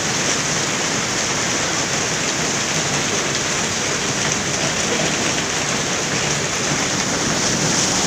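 Heavy tropical downpour flooding city streets in Komsomolsk-on-Amur, with a vehicle pushing through deep floodwater and throwing up a wave; a steady, loud broadband wash of rain and water fills the whole stretch without any speech.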